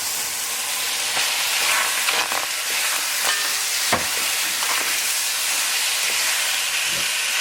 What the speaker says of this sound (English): Look how I dump everything in there.